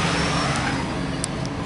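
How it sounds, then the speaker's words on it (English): A big frame truck rolls past with a steady, loud engine and road roar heard from inside a moving vehicle, with a couple of brief high clicks over the rumble. "Big frame truck."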